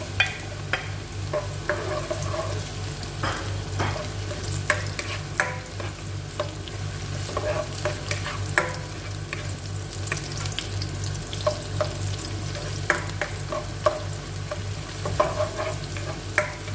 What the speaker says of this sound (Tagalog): Hintayin lang natin mag-golden brown yung ating sibuyas at bawang.